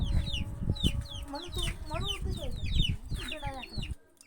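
Chickens cluck and squawk in quick bursts, with a rooster calling among them, close by over shuffling and low background noise as the birds are let out of their enclosure.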